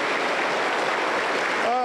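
A church congregation applauds, a dense, steady wash of many hands clapping at close range, with a voice rising briefly near the end.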